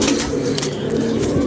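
A pigeon coos close by in short, soft throaty murmurs, fairly loud against a quiet background.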